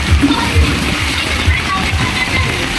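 Rain falling on a market stall with its goods, water leaking through and dripping and splashing close by in a steady wet wash, with low thuds and people talking underneath.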